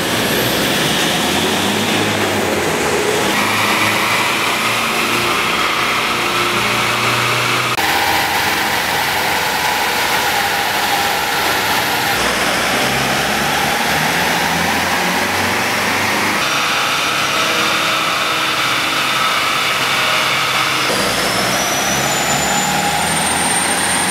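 A Toyota pickup's 2.5 liter diesel engine is running on a dyno to establish a factory baseline, giving a loud, continuous mechanical roar that holds steady for the whole stretch with shifting tonal layers and no talk.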